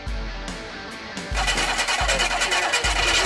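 Engine of a fire engine built from scrapheap parts, running rough: a low rumble with regular heavy thumps about every 0.8 seconds, louder after it picks up, near and continuous.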